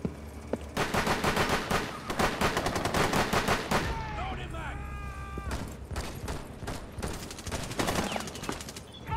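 Rapid bursts of gunfire from the video game Rainbow Six Siege, with dense automatic volleys for several seconds, a brief lull, then more shots, while a player talks over the action.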